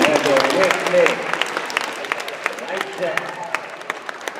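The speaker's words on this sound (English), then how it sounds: "Give yourselves a round of applause." Applause from a school assembly audience, scattered claps spreading across the room while an adult speaks over them.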